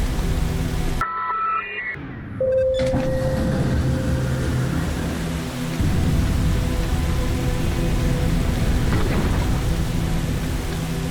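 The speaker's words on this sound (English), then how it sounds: "Suddenly it's pouring rain." Steady heavy rain pours throughout with low rumbling thunder in a Roblox video game, a brief drop in the middle before the downpour resumes loudly.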